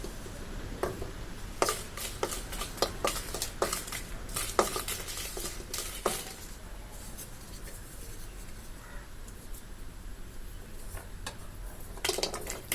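Dry red chillies are roasted dry in a pan while being stirred, producing repeated scraping and clinking strokes of a utensil against the metal in quick irregular bursts, fairly close, with no speech.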